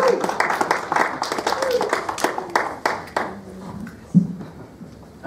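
An audience claps and cheers in scattered bursts, with sharp hand claps and murmuring voices mixed throughout, ending with a louder burst.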